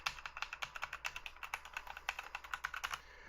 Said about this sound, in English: so let me just type in some stuff here.